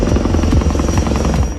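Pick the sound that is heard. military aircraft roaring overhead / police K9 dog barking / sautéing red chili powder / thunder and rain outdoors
military aircraft roaring overhead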